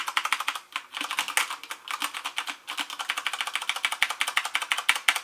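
Rapid, steady typing on a Corsair Strafe RGB mechanical keyboard with Cherry MX Brown switches, keys bottoming out in a dense run of close, crisp clacks without any high-pitched click.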